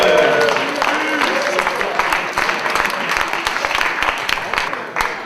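A slam poetry audience applauds a poet at a French competition round, with loud sustained clapping and crowd noise that thins toward the end, and a few voices heard briefly under it.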